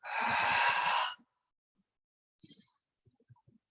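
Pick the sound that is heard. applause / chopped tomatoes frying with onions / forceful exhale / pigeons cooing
forceful exhale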